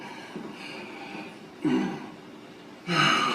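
Close, heavy breaths rasp in and out, with a few loud gasping inhales over a steady background hiss.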